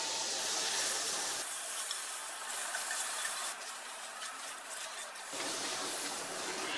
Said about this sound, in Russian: И сейчас сюда добавляю кусочек сливочного масла